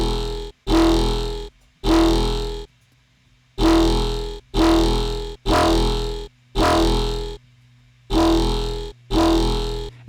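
A distorted synthesizer plays a rhythmic pattern of about nine loud, gritty, buzzing sustained notes, each chopped off by a short gap of silence.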